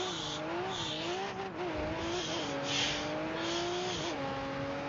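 A Pagani Zonda's engine in the CPM 2 Track Racing game on the Nürburgring, a loud sustained drone holding steady pitch with brief dips and rises as the car shifts and accelerates, tyre noise hissing over it.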